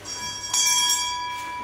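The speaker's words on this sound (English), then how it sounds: "So that bell is to signify that they can start pulling guard." A bell rings at a jiu-jitsu match to signal that competitors may start pulling guard, a bright metallic ring sounding once and decaying, with a second fainter strike just after.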